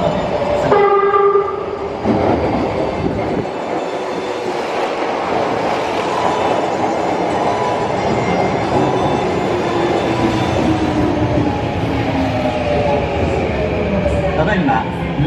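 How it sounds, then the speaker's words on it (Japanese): A Kyoto Municipal Subway 10 series train bound for Kokusaikaikan rumbles steadily into platform 2 at Gojo Station, with a horn blast near the start, screeching wheels and a long braking whine as it slows to a stop. "ただいま2番乗り場に到着の電車は国際会館行きでございます。"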